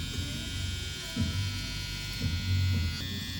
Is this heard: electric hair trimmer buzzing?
yes